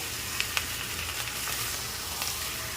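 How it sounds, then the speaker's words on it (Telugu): Chicken frying in a pan as it is stirred, a steady moderate sizzle with a few light scraping clicks from the spoon, no voices. "చూసారండి, తిప్పుతూ ఉండండి, ఇంకా కొంచెం ఫ్రై అవ్వాలి"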